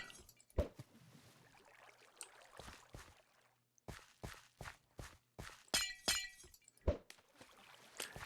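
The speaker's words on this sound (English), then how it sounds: "you want to be careful of which of these glass bricks you're going to break because the whole place will flood" Glass blocks breaking in a video game: a series of sharp, separate shattering cracks spaced irregularly over several seconds, with one bright, glassy tinkling burst near the middle and quiet gaps between.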